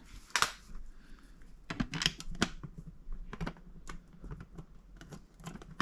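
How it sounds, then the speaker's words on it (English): Screws are driven by hand into a light switch cover plate, making faint, irregular clicks and short scraping ticks in close, quiet surroundings, with no speech. "Put our cover on. Get our screws started."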